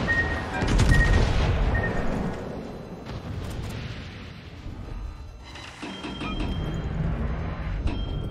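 A tank in a video game fires high-explosive shells, heavy booming blasts that ring out and rumble away, with clusters of sharper shots and impacts spread across the stretch, loud and near.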